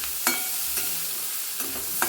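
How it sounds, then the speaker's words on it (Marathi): Matar poha being sautéed in a kadai gives a soft, steady sizzle with a few light scraping stirs of the spoon. No one speaks. "आता इथे मी 1 मिनिटभर चांगले परतून घेतलेले आहे"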